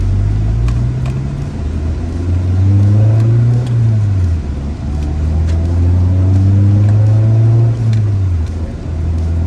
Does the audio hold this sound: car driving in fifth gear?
yes